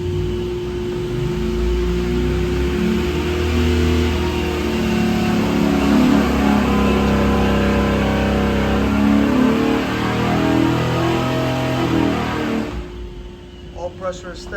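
A 376ci LS V8 built for a single turbo, with big heads and intake, roars at sustained high revs on a dyno. It holds a loud, steady pitch for about twelve seconds, then cuts off abruptly.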